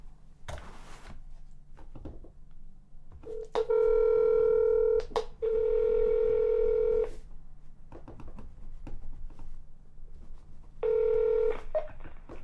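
Telephone keypad tones and ringback tones on an outgoing call to the Defiance County Treasurer office in Ohio, a few clear dial beeps followed by steady repeated ring tones, with no talking.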